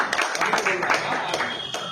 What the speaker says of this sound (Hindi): इसी क्रांति जी के लिए मैं जोरदार ताली से आग्रह करूंगा कि स्वागत किया जाए।